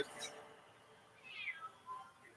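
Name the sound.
cat meowing outside the window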